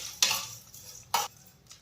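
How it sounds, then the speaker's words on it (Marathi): Vermicelli roasting in ghee in a wok, stirred with a spoon: two short scraping strokes against the pan over a faint low sizzle, with no voices. "आता यामध्ये आपण आपल्याला ह्या शेवया भाजून घ्यायच्या आहेत"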